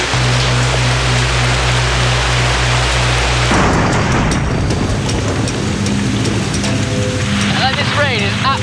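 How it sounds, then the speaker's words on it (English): Heavy tropical rain pours down on a remote island, a dense steady roar filling the air throughout, with a low droning hum early on and faint chirping creatures near the end. "This rain is absolutely unbelievable."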